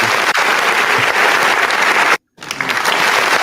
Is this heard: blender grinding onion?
no